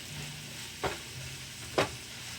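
Onions sauté and brown in a pan with a constant close sizzle, broken by two sharp scraping stirs of a utensil, and no voices.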